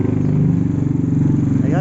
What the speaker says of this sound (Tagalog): Angkas ko na siya sa aking motor.